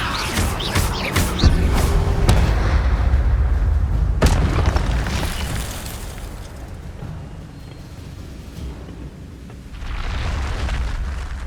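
Incendio fire spell cast in the Hogwarts Legacy video game, loud booming fiery bursts with sharp impacts in the first few seconds, then a sustained rumbling roar that eases and swells again near the end.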